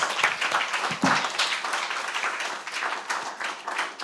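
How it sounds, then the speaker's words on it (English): Audience at a FutureFest event in Weymouth claps for a panel, a steady patter of many hands filling the room for about four seconds with no speech over it. "I think this panel deserves a round of applause."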